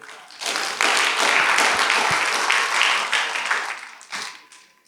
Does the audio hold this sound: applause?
yes